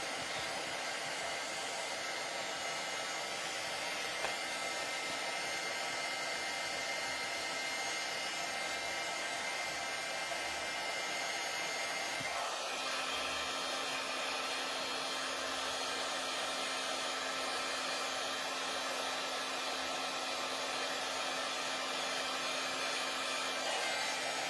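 An embossing heat gun blows hot air onto craft glue, producing a steady, loud, unbroken electric whir with no talking.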